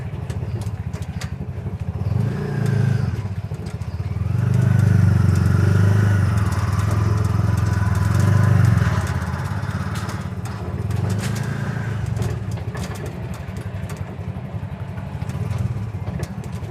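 A new Bajaj auto rickshaw engine drones steadily as the vehicle is driven, a loud close putter that swells in the middle with gear changes, with no talk over it.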